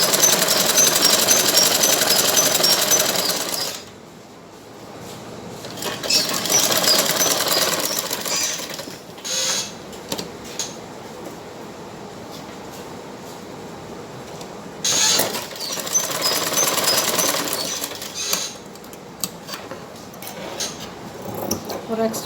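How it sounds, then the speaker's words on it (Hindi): Sewing machine stitching the side fitting of a blouse, a loud rapid mechanical whirr in bursts of several seconds with quieter gaps where a voice talks. "ये देखिए अब हम साइड की फिटिंग की सिलाई देंगे।"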